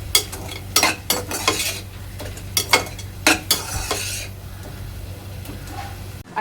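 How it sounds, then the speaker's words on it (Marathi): Ginger-garlic paste is stirred into prawn pulav masala, with a run of close scraping spoon strokes and soft sizzling in the pot that fades to a quieter simmer near the end. "यामध्ये मी टाकणार आहे आलं लसणाची पेस्ट, मिक्स करून घ्यायचं आहे।"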